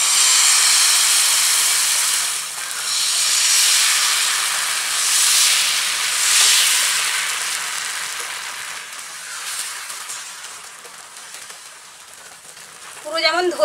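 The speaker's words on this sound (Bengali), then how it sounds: "একইভাবে আবারও আরেকটি ভেজে নিচ্ছি" Palm fruit pancake batter fries on a hot griddle with a loud, steady hiss and sizzle that swells and fades, and a brief clatter at the end.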